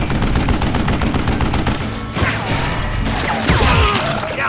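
Loud, dense gunfire rattles almost without pause in the Western video game Gunslinger, rapid overlapping shots with mechanical clatter and crashing impacts and no talking.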